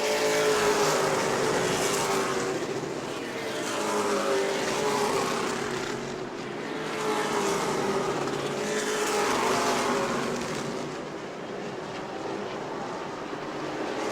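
Pro Late Model stock cars race at New Smyrna Speedway, a loud, continuous engine roar that swells and recedes in waves as the pack circles past, with no talk over it.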